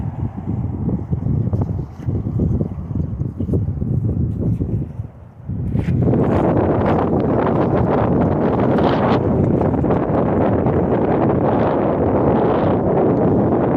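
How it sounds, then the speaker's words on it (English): Loud wind buffeting the microphone beside the Clackamas River, rumbling and gusting throughout, growing stronger and harsher partway through. "Sorry, it's very windy."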